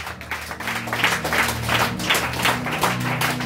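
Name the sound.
church congregation applauding and acclaiming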